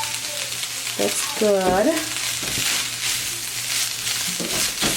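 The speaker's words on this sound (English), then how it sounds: "you're gonna saute it just for a little bit, kind of not, just for it to get that flavor" Chicken sautéing in a pan seasoned with salt and pepper gives a steady, close sizzle that runs throughout, with a brief spoken remark over it.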